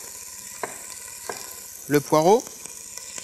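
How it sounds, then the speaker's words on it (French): Langoustine heads browning in a pan with an aromatic garnish of carrot rounds and onion: a soft, steady sizzle under a few light clinks, while a person speaks a couple of words nearby. "On fait revenir nos têtes de langoustine."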